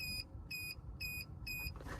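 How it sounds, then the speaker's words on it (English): Ghost 2 immobiliser keypad fitted to a 2023 Mercedes GLC gives four sharp, evenly spaced high-pitched confirmation beeps about half a second apart, clear above a low background rumble. "We get 3 beeps to confirm it."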